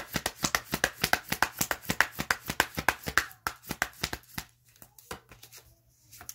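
A deck of tarot cards is shuffled nearby in quick, regular riffling snaps that slow and thin out toward the end as cards are drawn.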